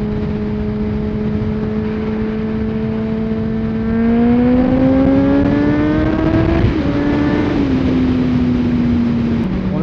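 A motorcycle rides along Quebec's Route 116 highway, its engine droning steadily near the mic, then the pitch climbs as it accelerates, dips at a gear change and settles into a steady cruise under wind noise.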